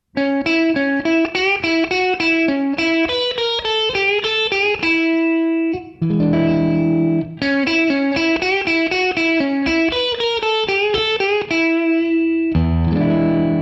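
Distorted electric guitar plays a quick bluesy lick in E twice, bright repeated notes with short pauses and a low chord stab closing each phrase.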